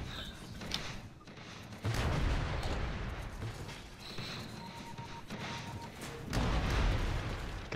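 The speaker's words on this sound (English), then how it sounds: "Lots of bombs being chucked." Explosive booms and blasts from the Techies hero's bombs in Dota 2, a burst of overlapping detonations in a mid-lane 5v5 fight, loud and continuous with heavier surges near the start and end.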